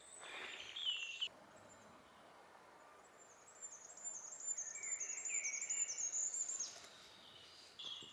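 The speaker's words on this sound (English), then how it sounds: "Birds singing." Forest birds singing in the woods, faint chirps and whistled phrases coming and going over a quiet backdrop, with a soft insect-like hiss underneath.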